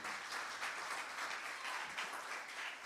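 A church congregation applauds, a faint, steady wash of many hands clapping heard from a distance for a few seconds.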